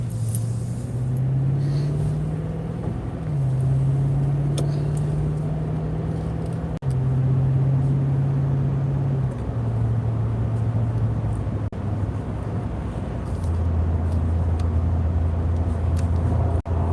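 A car driving on a road on a gloomy day, a steady low engine drone with gear-like pitch steps and constant road rumble, heard from inside the vehicle with no talking.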